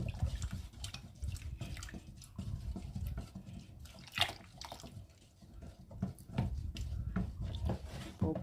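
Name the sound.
pouring warm liquid soap solution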